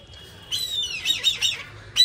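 A rescued kite with a wing cut by kite string gives a series of shrill, wavering squawks and calls, close and fairly loud, in short bursts over a faint low background hum.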